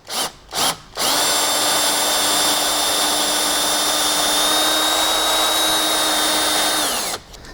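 Power drill boring into a fence post while fence post capitals are being fitted: a few short bursts, then one long steady whining run of about six seconds, close and loud, winding down at the end.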